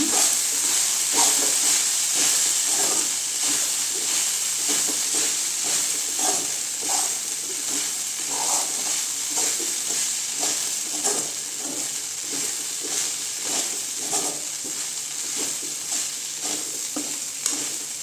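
Idli upma, crumbled idli, stirred in a hot pan: a steady sizzling hiss throughout with a loose rhythm of spatula scrapes and clinks, loud and close, with no talk.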